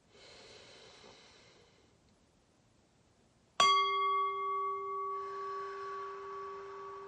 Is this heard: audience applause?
no